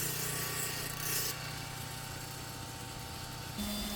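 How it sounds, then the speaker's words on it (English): A Grizzly inflatable drum sander whirs steadily against honey locust wood while power carving a ladle, with a constant motor hum and gritty rubbing, shifting slightly in tone partway through. "This Grizzly inflatable drum sander is great for that, as well as slimming and blending all the contours and facets."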